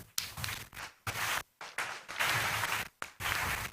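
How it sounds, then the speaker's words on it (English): An audience in a conference hall applauds in several separate bursts of clapping, each rising and breaking off, with quiet gaps in between. "the hall should be resounding with claps"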